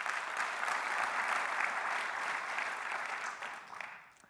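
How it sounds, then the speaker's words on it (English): An audience at a business plan competition applauds a judge, steady clapping from a room of people that holds for about four seconds before fading out. "Let's give a round of applause for Joe."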